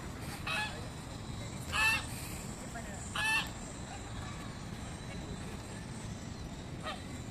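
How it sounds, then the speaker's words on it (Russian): A few short goose honks ring out at intervals against a steady outdoor background with low rumble in a park in Palermo, Buenos Aires. "Вон гуси разочарованно кричат,"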